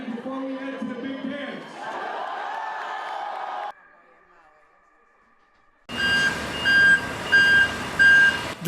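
Trucks delivering metal sheets and steel bars from a steel mill, with rhythmic reversing beeps sounding loudly over engine noise near the end, after a stretch of mixed activity and a quiet pause.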